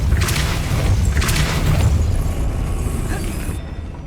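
A Depulso spell cast in Hogwarts Legacy on PS5 Pro lets out a loud, close, booming blast with a crackling burst on top. The sound then decays into a rumbling tail that fades out.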